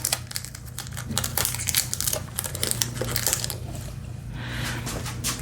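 Tape crinkles and rustles close up during repair work on a Honda HRR2169VYA push mower, in a dense run of crackly bursts and soft handling noises.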